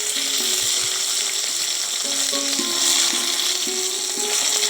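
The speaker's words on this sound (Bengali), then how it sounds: "এখানে মাছগুলোকে ভাজছি" Small puti fish fry in a pan with a continuous, moderately loud hiss and crackle, steady throughout, with a few faint tonal hums in the background and no talking.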